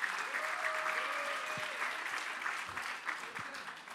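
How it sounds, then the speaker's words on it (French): Sustained audience applause fills a hall at an eloquence competition final, steady dense clapping throughout with a faint tone and scattered crowd noise underneath. "On peut applaudir et accueillir très très fort Islem Sadala."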